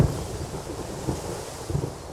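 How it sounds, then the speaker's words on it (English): Thunder rumbling from a brewing thunderstorm over savanna giraffe country, a steady low roll with swelling gusts and rain-like hiss, fairly loud and continuous. "If a thunderstorm begins to brew"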